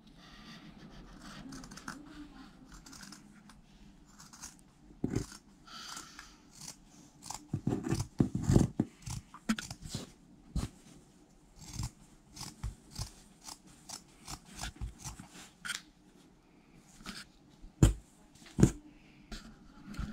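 Scissors snip through fabric while cutting cloth for a homemade face mask, sounding as sharp, close clicks and crunches in irregular bursts separated by quieter handling pauses.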